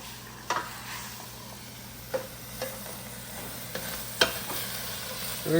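Onions frying in a pan for chicken soup while being stirred, a steady close sizzle with several sharp scrapes and clinks of the spoon against the pan spread across the clip.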